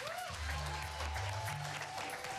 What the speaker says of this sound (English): Let's give her a big round of applause here.